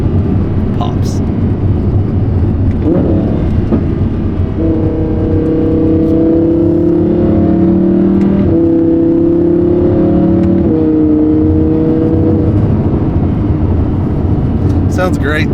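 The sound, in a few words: supercar downshifting on a country road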